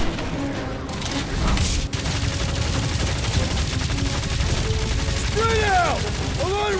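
Dense gunfire and blasts from Guardians of the Galaxy game combat, a steady barrage of shots and booms with sweeping synthetic tones near the end. Voices talk over the action.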